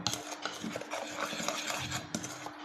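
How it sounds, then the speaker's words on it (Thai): A spoon stirs salt, flour and sugar together in a bowl for Thai coconut cake batter, a steady scraping, rubbing rhythm with light clinks against the bowl, close and continuous. "เพราะว่าเราต้องกวนตรงนี้ กวนเกลือ แก้แป้งกวนไส้แล้วก็น้ำตาลให้กระจายตัวดีก่อนนะคะ"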